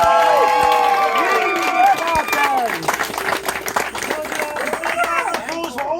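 Audience applause and cheering for bards at a live-action roleplay festival's singing contest, dense clapping throughout with whoops and voices rising over it, loud and close.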